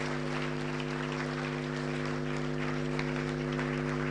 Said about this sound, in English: this deserves a truly resounding round of applause